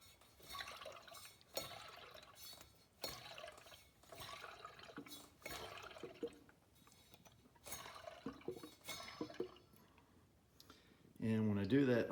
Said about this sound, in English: you can kind of hear the water sloshing